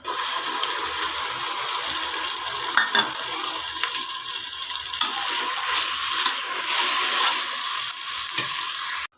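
Ginger, garlic, onion and green chilies sauté in hot oil for mutton biryani, making a loud, steady hissing sizzle with a few stirring knocks, close up and continuous, without speech.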